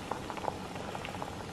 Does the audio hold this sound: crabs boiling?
yes